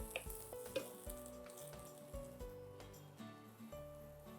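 Chopped garlic with green chilies sizzles and fries in a hot pan, a soft continuous crackle with a few stirring clinks, quiet and close, no voices.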